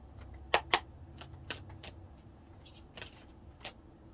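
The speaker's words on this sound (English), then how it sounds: "All right, one more big shuffle." Tarot cards being shuffled by hand in a quiet room, a few soft crisp riffles and snaps scattered over several seconds, close and fairly faint, with no talking.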